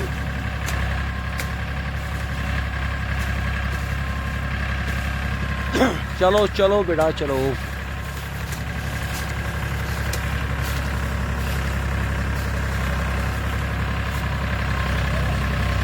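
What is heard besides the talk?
Farmtrac 45 tractor engine pulling iron pipes through wet field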